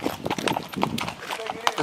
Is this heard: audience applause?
no